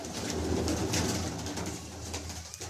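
Flying pigeons, a cross of Teddy and Lal Pari birds, coo in a continuous low murmur that fills the loft, with no talking heard.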